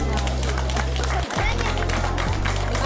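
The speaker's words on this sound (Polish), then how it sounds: "Ogromne brawa." An audience claps at a kindergarten nativity play, a dense, continuous patter of many hands over a low musical hum that briefly drops out midway.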